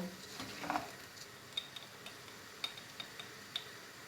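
Food sautéing in a pan for a roasted-meat rice dish, with a pinch of salt added: a faint, low sizzle with a few sharp spoon clicks against the pan, no voices.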